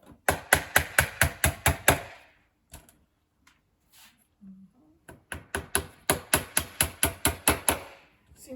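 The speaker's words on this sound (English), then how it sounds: "Simple hammer, any hammer will do." Two quick runs of light, sharp hammer taps on small tacks, about eight blows each, separated by a brief pause.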